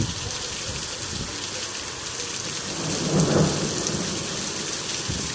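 Thunderstorm in Phoenix, Arizona: steady heavy rain hiss throughout, with a low rumble of thunder swelling in the middle before fading back into the downpour.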